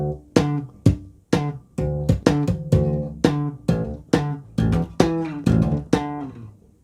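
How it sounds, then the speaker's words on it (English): Slap and pop bass guitar playing: about a dozen sharp percussive plucks and popped strings ring out close and loud, each note decaying with clear harmonics, played solo with no talking. "So that's where it creates this pop sound."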